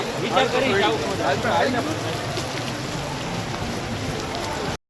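Heavy rain pours steadily onto umbrellas and ground outdoors, a dense continuous hiss with voices talking over it throughout.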